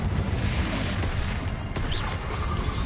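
A Confringo fire spell blast in Hogwarts Legacy, a dense booming impact with crackling burst and rumbling tail, loud and close, filling the moment without talk.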